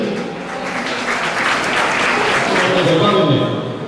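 Audience applause welcoming a guest at a local public event, steady and sustained throughout with a broad, dense clatter of many hands.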